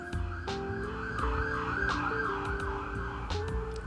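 An ambulance siren wails continuously, its pitch sweeping up and down in a steady cycle, loud and close with traffic rumble beneath.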